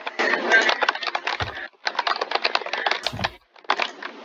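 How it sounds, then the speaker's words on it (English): Rapid clattering keystrokes on a computer keyboard in quick bursts with brief pauses, close and fairly loud, with a couple of low thumps between runs. "You can hear him typing away"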